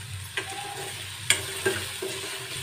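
Tomatoes sautéing in a pan over a medium flame for sabudana khichdi give a low, steady sizzle and frying crackle, with a few sharp clicks and taps of a spoon stirring against the pan.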